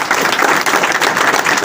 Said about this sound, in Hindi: उसके लिए इस ऑफिस में एक बार ताली बजाता हूं।